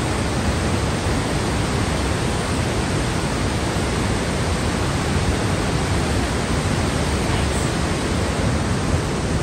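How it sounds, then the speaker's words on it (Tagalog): Nugget Falls at Mendenhall Glacier pours with a dense, unbroken roar of falling water, a steady broadband rush that fills the whole scene without pause or variation. "yung falls, or kung tawagin nila, Nugget Falls, ng Mendenhall Glacier"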